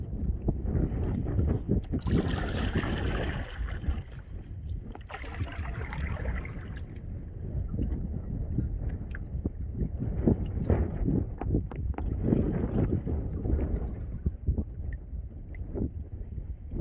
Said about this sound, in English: I think it definitely feels like I'm heading into a headwind now.